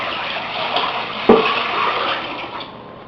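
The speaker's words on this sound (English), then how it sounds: "Now we're going to add our brine solution." Brine solution is poured over a turkey sitting in a container, giving a soft, continuous splashing wash of liquid with one brief clink partway through.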